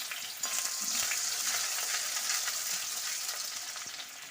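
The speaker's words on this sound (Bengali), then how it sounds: "তো এবার আমি তেলের মধ্যে দিয়ে দিচ্ছি ফোড়নের জন্য জিরে, গোটা জিরে, আর তেজপাতা, আর দুটো এলাচ দিয়ে দিচ্ছি, কিছুটা পেঁয়াজ কুচি" Whole cumin, bay leaf, two cardamom pods and chopped onion sizzle and crackle steadily in hot oil for a Bengali-style potato curry, a dense, even frying hiss with a brief quieter start and no talk.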